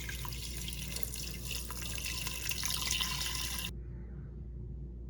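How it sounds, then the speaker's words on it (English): Water poured into a rice cooker pot holding chicken bones, celery and seasoning for bone broth: a steady, close splashing flow for several seconds that cuts off abruptly, leaving near silence. "Add water."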